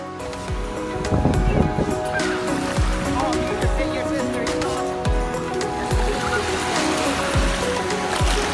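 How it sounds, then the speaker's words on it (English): Low waves wash gently at a lagoon beach at Disney Aulani in Hawaii, a continuous soft surf and water rush with low rumbles, while a person talks over it. "The waves are low, so it's safe for everyone to swim in."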